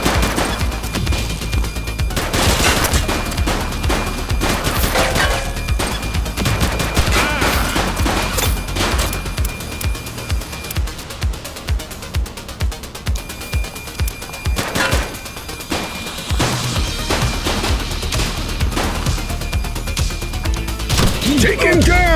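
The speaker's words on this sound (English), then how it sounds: "He's shooting!" Sustained bursts of gunfire crackle loudly in the police game The Precinct, with rapid volleys, crashes and heavy impacts, and voices shouting over the shooting.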